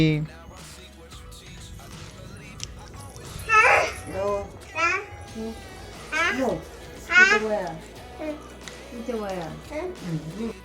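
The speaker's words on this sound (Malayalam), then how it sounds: "പൂച്ച" A cat meows several times, rising and falling cries spaced out, mixed with a voice speaking nearby.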